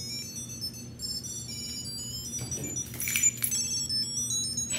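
A phone finder device rings to locate a phone, giving a bright electronic tone melody that repeats, with a brief clink of keys midway.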